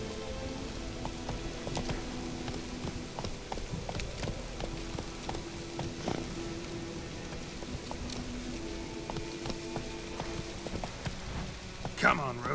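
Roach the horse clip-clops along in The Witcher 3: Wild Hunt, a steady run of hoof taps over game music and ambience, with a voice talking over it.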